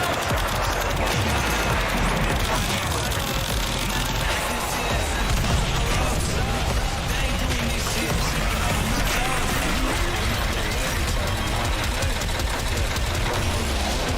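Continuous rapid machine-gun fire from a video game as a player shoots an enemy, dense and loud throughout with a steady mechanical rattle and no pauses.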